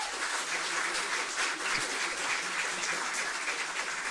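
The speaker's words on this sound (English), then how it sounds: "Let's get some applause happening there." Canned applause sound effect triggered from a button during a live stream, a dense, even hiss of clapping at a moderate, unchanging level with no distinct voices.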